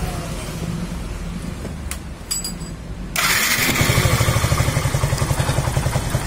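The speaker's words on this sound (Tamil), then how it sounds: "ரெண்டாவது இப்போ ஸ்டார்ட் பண்ணி காட்டுறேன் வண்டியை." A Yamaha FZ S motorcycle with a carburettor problem starts with a brief cranking clatter, then settles into a loud, close, steady idle with a rapid, even pulsing beat.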